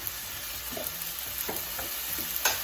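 Seasoned chicken is stirred in a frying pan, a steady close sizzle with light scraping strokes and faint splatter throughout, no voices.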